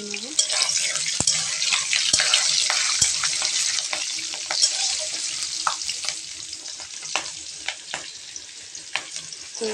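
Bay leaf, slit green chilli and cumin fry in hot oil in a kadai while being stirred, giving a steady close sizzle with scattered spatter crackles and occasional utensil clicks throughout, no talking.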